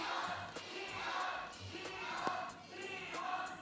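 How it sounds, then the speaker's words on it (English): Crowd at an LCK Summer Playoffs esports match between KT and T1, chanting and cheering in a steady loud roar with rhythmic shouted pulses, heard up close and filling the whole stretch. "엄청난 선창과 함께 응원이 이렇게 쏟아졌습니다."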